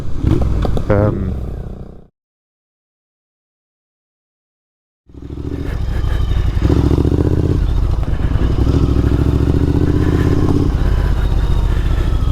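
Triumph Scrambler motorcycle on a dirt green lane, engine rumbling and revving loudly with clattering over rough ground; sound cuts out completely for about three seconds before the ride resumes.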